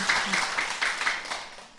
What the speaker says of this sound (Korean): 와우, 박수 한번 치고 가야죠